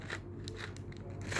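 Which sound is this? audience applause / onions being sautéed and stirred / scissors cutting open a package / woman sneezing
scissors cutting open a package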